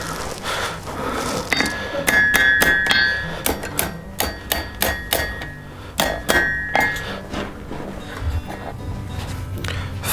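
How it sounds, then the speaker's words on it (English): An iron courting candle made from 1/4 inch stock is hammered cold on an anvil, giving a run of sharp ringing metallic strikes in an uneven rhythm, close and loud, with short pauses between bursts. "Now it's just some final adjustments on the anvil."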